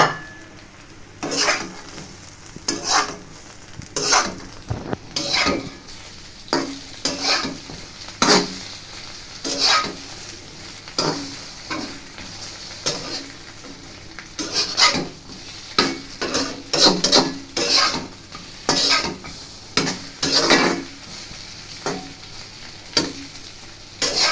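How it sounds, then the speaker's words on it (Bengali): Eggplant sizzles steadily as it fries in a pan while a utensil stirs and scrapes in repeated bursts, close and clear with no talking. "পুরো বেগুনটা ঢেলে একটু নেড়ে চেড়ে ফেলবো।"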